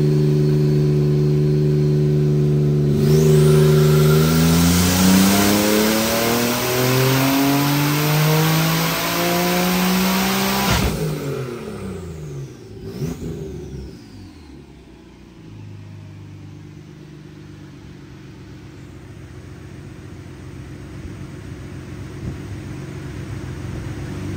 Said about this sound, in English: First nitrous hit.